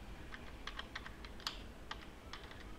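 Quiet, close keystrokes on a computer keyboard while a command is entered in MATLAB, an irregular run of about a dozen short clicks with brief pauses between bursts and no voices.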